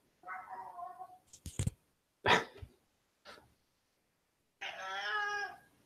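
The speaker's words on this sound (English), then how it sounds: "my cat just startled me" A house cat meows several times, near and fairly loud, with short bursts separated by silence and a longer drawn-out meow at the end.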